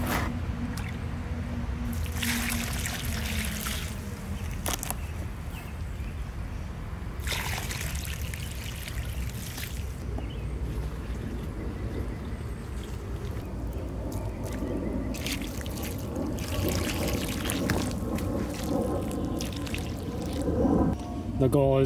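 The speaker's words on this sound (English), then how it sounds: "Pour that into the trench all the way around the tree." Liquid pours and trickles steadily into a soil trench around a beech tree for a long stretch, with a soft wet squishing texture and some talking over it.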